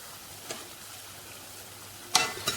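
Sweet bonda (vaippan) frying in oil on low heat and being turned: a faint, steady sizzle with a soft tap early on and two sharper clinks near the end.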